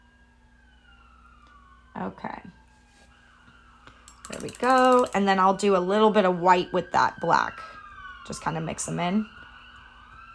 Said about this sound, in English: Sorry about the sirens, happens all day here.